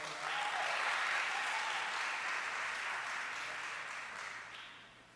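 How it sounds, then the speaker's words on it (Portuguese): A church congregation claps loudly for Jesus during a service, a full swell of applause that holds steady and then tapers off toward the end, with no one speaking over it. "Aplauda Jesus bem forte"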